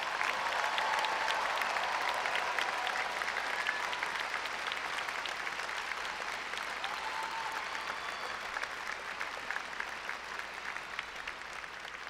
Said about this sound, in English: Please join the Dean in a round of applause for all our doctoral degree recipients.